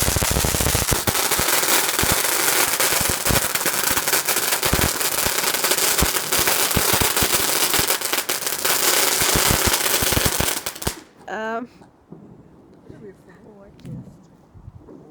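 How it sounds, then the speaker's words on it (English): Firecrackers and fireworks going off close by on Bonfire Night, a loud, dense string of rapid crackling bangs for about ten seconds that stops abruptly, followed by quieter talk and faint distant pops. "The other fireworks from other people are way prettier and we can't see a thing unless we look inside them."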